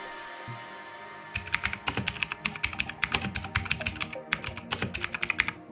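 Typing on a Motospeed CK104 mechanical keyboard produces a quick, steady run of loud, crisp key clicks, close up and alone. It starts after a second of quiet room tone.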